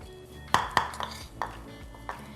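Toasted coconut being stirred into sweetened condensed milk, heard as several sharp clinks of a utensil against a bowl followed by softer scrapes, close and brief with no talking.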